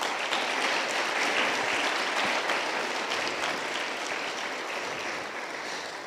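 A church congregation claps in praise for Jesus, a full, sustained roar of many hands that stays loud and even throughout, with no voices standing out.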